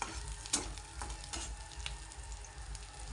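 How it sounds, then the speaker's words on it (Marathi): Garlic and onion fry in a pan with a steady close sizzle, broken by a few stirring scrapes and knocks. No one speaks. "ह्याला लसूण आणि कांदा टाकायचा फक्त मस्त जरा लाल होऊ द्यायचं"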